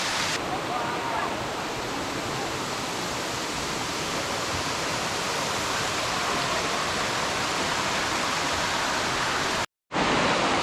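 A roaring waterfall in Great Smoky Mountains National Park fills the scene with a loud, constant rushing hiss, close by and unbroken, cutting off abruptly near the end.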